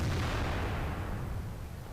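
A tank cannon fires in an online clan battle game, a deep heavy boom that rumbles and decays over about two seconds, loud and alone.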